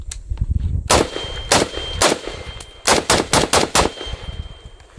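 Rapid semi-automatic shots from a SCAR 17 battle rifle, the SCAR Heavy, in Call of Duty: a string of loud, sharp near reports with metallic clanks, irregular single shots giving way to a quick burst of five or six.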